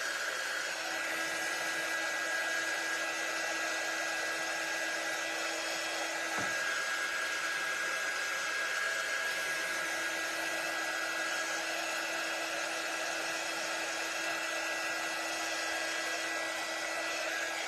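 A hair dryer runs steadily and loudly throughout, drying items with a constant whirring blow and a slight tonal whine, with no speech over it.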